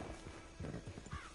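Horse hooves clip-clop at a slow, uneven walk in Red Dead Online, a few soft thuds, faint and somewhat distant.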